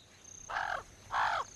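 Two harsh, croaking white-necked raven calls in the Serengeti, Tanzania, each about a third of a second, spaced apart with a brief quiet gap, fairly close and clear.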